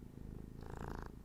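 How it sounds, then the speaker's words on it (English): A cat purring close to the microphone, a soft continuous rumbling purr that swells briefly in the middle, heard alone. "That was my cat"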